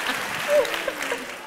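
A Q&A audience in Houston bursts into applause, a dense, even wash of many hands clapping at moderate volume for a short stretch.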